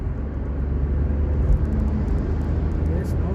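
A Volkswagen Polo hatchback, a BS6 model, accelerating toward 120 km/h, heard from inside as a steady, loud low engine and road drone that holds constant without a break.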